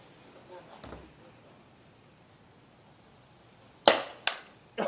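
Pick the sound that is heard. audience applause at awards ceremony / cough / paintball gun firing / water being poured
paintball gun firing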